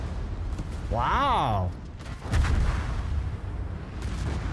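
Warship guns fire in a naval video game, with booming salvos and rumbling impacts under a game tone that rises and falls. A commentator gives a brief exclamation during the firing.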